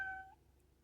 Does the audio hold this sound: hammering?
no